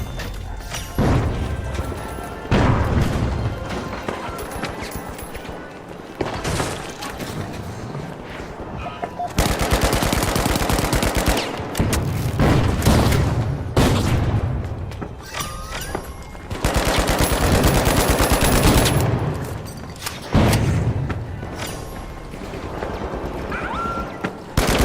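Grenade launcher and gunfire in the video game The Finals: loud, dense bursts of rapid shots and blasts come in waves, with a player talking over the combat.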